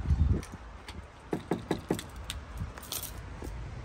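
A car door of a wrecked AMG Mercedes-Benz CLS 550 rattles and clicks as someone tries to open it, with a thump at the start followed by a run of quick, sharp mechanical clicks and jangles, close up.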